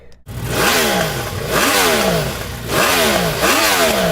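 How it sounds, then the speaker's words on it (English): A Yamaha R1M sportbike engine in cold weather, revved hard and close in repeated rising and falling sweeps, about four sharp climbs and drops in quick succession. "That's the noise of a motorcycle wishing it was indoors."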